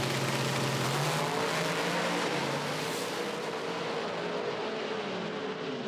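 An IHRA Outlaw Nitro drag racing car at Hebron roars down the track, a loud, dense, sustained blast of engine noise that gradually thins and fades as it pulls away.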